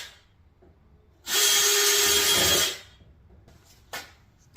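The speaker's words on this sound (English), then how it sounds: "Okay, so I've drilled some holes into the bottom of the Pizza X cup there." A power drill bores holes through the bottom of a plastic cup at a workbench, one loud steady whine of about a second and a half, followed by quiet handling clicks.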